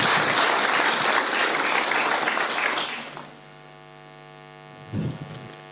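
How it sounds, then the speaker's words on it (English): Applause for an accordion player at an accordion band's 75th anniversary event, a dense round of clapping that stops abruptly, leaving a steady mains hum and a brief rustle. "Give her an odd clap there."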